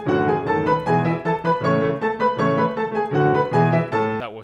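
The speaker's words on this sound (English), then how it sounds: "that was Turkish March by Mozart" A piano plays Mozart's Turkish March in octaves, quick bright notes and rhythmic chords running loud and continuous with no talking.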